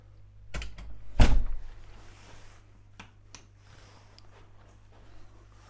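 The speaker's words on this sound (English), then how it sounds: "Key in the door." Key turned in a hotel room door lock, followed by a sharp thunk as the door unlatches and swings open, then light clicks and quiet room ambience.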